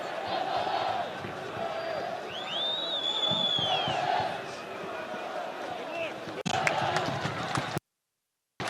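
A football stadium crowd at a Qəbələ versus Qarabağ league match applauding a substitution, a broad continuous roar and clapping from a distance, with a commentator talking over it throughout.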